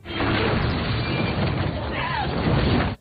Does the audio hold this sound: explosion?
yes